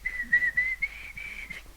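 A preacher in a church service imitates whistling with his mouth, a single sustained, wavering whistled tone lasting nearly the whole moment, close and clear with no talk.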